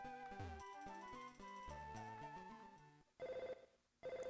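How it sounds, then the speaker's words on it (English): Phone ringtone in the video game Pokémon Fire Red, a chiptune melody of stepped notes followed by two short, loud electronic ringing bursts. "Oh, I got a phone call."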